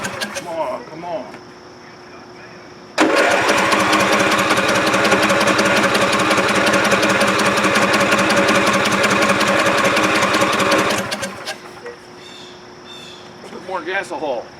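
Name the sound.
John Deere LA 145 V-twin engine running with fuel delivery problem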